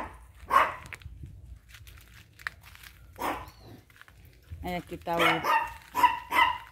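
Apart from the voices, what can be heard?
small dog barking under a guava tree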